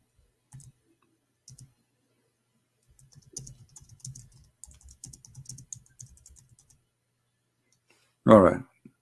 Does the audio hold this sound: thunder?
no